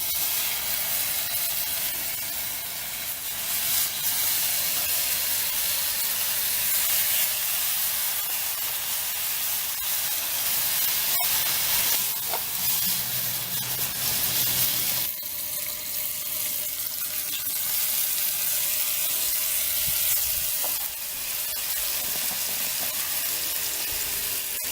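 Bacon sizzles over a fire in a folding firebox, a constant, loud crackling hiss lasting throughout with occasional small pops and no talking.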